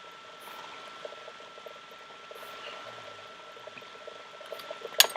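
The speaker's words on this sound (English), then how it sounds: "The apple cider really starts flowing." Apple cider trickles and gushes from a ratcheting cider press, a soft bubbling liquid flow with faint mechanical clicks and a sharper knock near the end, fairly quiet and without talk.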